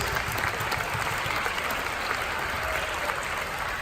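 Steady, dense applause from a large crowd, continuous clapping filling the whole stretch with no voices standing out.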